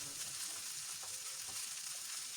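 Ivy gourd pieces frying in hot oil with curry leaves and asafoetida, a steady soft sizzle with faint stirring, close and quiet, without any talk.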